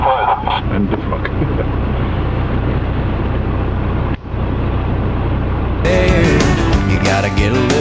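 A vehicle pushes with momentum through soft mud, its engine droning loudly and continuously while tires churn, with a brief dip midway and a sharper, brighter burst of noise near the end.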